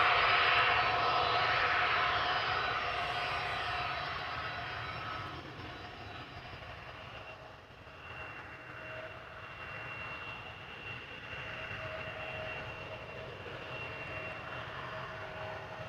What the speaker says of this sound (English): got another SAS CRJ making its way over to the runway threshold